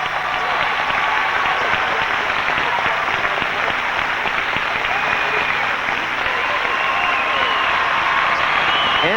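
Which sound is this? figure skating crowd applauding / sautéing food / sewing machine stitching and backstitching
figure skating crowd applauding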